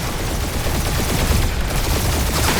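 Rapid, dense gunfire fills a space battle in the Marvel's Guardians of the Galaxy video game on PS5, a loud continuous barrage of overlapping shots with no pauses.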